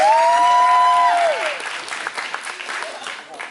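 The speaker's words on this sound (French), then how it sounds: "on n'oublie pas de l'applaudir aussi, hein, il nous aide beaucoup." A cosplay contest audience in Dijon keeps applauding in a steady wash of clapping that thins and fades toward the end, while an emcee's amplified voice speaks over it at the start.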